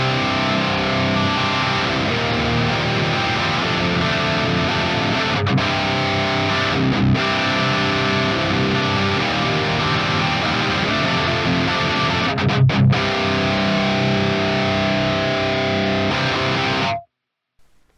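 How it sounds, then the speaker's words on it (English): Crunchy, distorted electric guitar at lowered gain through Mars Mofo cabinet impulse responses, playing steadily at full loudness with a saturated amp tone, ringing chords throughout before cutting off abruptly near the end. "if we lower the gain here, we can get some kind of crunchy tones going"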